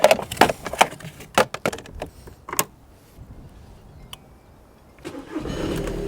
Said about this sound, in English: she starts, and now she runs